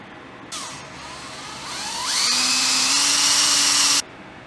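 A power drill whines up to speed, its pitch rising and then holding steady for a couple of seconds before cutting off abruptly.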